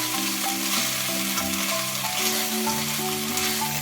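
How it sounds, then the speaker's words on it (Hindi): Potatoes and carrots sizzle steadily in spicy masala over a medium-high flame, with a little water added to the scorching spices, and soft tonal music runs underneath the continuous frying. "मसाला थोड़ा जलने लगा है तो चंद टेबल स्पून पानी के शामिल कर देते हैं और फ्राइंग का अमल जारी रखते हैं"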